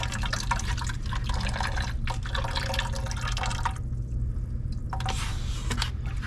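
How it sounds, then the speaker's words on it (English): Water drains steadily from a tankless on-demand water heater during a vinegar flush, a continuous close splashing and dripping stream that runs throughout with a brief dip in the middle. "Just going to let that drain for a second."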